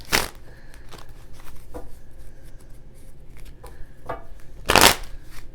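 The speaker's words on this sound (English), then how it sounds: "let's go ahead and pull out the cards, see what's going on here with Aries" Tarot cards being shuffled and handled during a reading, with soft papery riffles and taps scattered through the moment and a louder burst of shuffling near the end, no talk.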